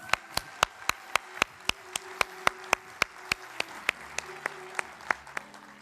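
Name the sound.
applause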